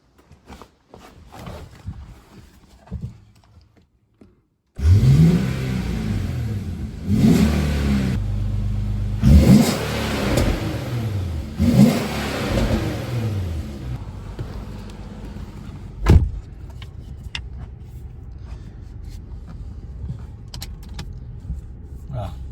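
An Infiniti Q50 on a test drive after a DIY wheel bearing replacement: a door and interior rustle, then the engine starts and revs through several acceleration pulls, settling into steady cabin road noise, with no talking.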